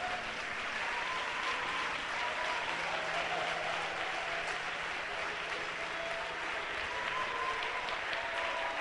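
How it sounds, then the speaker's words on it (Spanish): Sustained crowd applause, dense and steady, heard at moderate distance with a few faint voices mixed into the clapping. "aplauda, aplauda"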